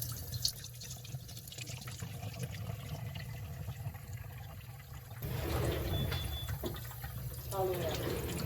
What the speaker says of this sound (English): We need the water just dribbling out.